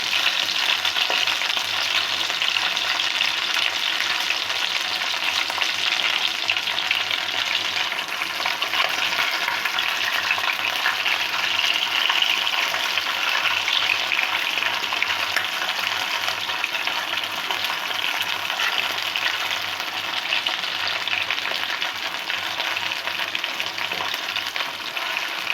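Chicken roast frying in a pan, a dense, steady, loud sizzle that holds unbroken for the whole stretch, heard close with no talking.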